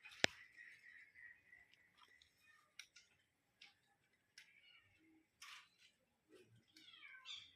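Small kittens among a group of eight adopted cats give several faint, high meows with quiet gaps and light rustling, one chirpy call near the end.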